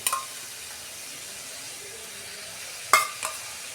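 Sour yogurt goes into a pan of spiced chicken masala, which keeps up a soft, steady sizzle. Two sharp utensil clinks or splashes land near the end.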